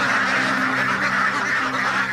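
A dense, continuous chorus of ducks quacking on an Indonesian duck farm, many birds calling at once close by, forming a steady honking din with no pauses.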